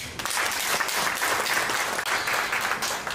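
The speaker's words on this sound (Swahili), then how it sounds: "Makofi tena." An audience at an International Domestic Workers Day gathering claps in steady, dense applause, close and sustained for the whole stretch without any speech.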